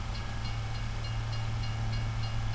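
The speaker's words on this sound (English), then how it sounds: "I love that train. I hate that train, but I love that train." Train passing in the Farming Simulator 25 game, a low, steady rumbling drone with a faint rhythmic clack on top, fairly quiet and continuous with no voices.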